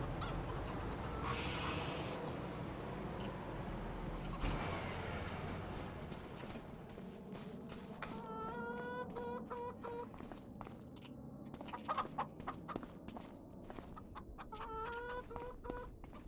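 Chickens cluck at a chicken house in Farming Simulator 25, repeated close clucks and squawks growing busier toward the end, over a noisy opening rush of game ambience.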